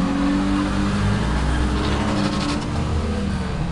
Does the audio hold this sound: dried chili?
no